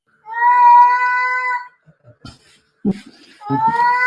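Cat yowling loudly in a long, drawn-out wail up close, followed by short scuffling thumps and a human voice exclaiming, then the yowl rising again at the end.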